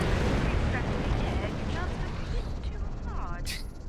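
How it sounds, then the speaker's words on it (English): An asteroid is blown up in the space game Star Trek Online, giving a dense, sustained rumbling roar that fills the whole stretch without easing, with faint voice-like sounds over it. "That was a big explosion."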